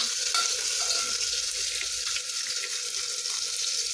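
Tomatoes fry in hot oil in a pan, giving a steady bright sizzle with some faint stirring underneath, close and continuous.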